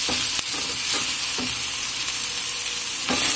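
Spice masala frying in plenty of mustard oil gives a continuous loud close sizzle, broken by a few soft stirring taps and scrapes.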